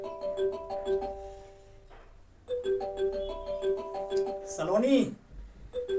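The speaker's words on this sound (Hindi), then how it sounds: "अरे घंटी बज रही है।" A phone ringtone chimes repeatedly from inside a bag during a stage play, a bright melodic tune that plays in two bursts under a voice calling out.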